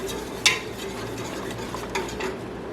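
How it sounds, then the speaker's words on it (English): Pectin crystals are stirred into orange juice in a pot, with a spoon scraping and clinking against the sides in a few light, close strokes and a sharper knock near the start. "I'm going to add the pectin and stir it in just with the juice"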